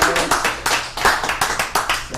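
Hand clapping on a podcast set, about ten sharp, close claps in a quick steady rhythm that loosens slightly toward the end, with no talk over them.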